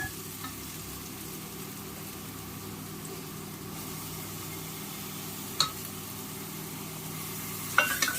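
Garlic sautéing in a pan of browned onions for Ambur-style mutton biryani, giving a steady, even frying hiss throughout with a couple of faint utensil clinks near the end.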